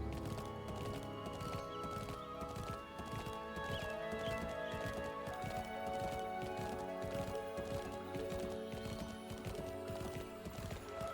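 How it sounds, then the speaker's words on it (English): A horse's hooves clop in a steady walking rhythm in the medieval Mirthwood video game, continuous and fairly close, with music and faint ambient sound underneath and no clear talk. "Oh, the horse is moving without me."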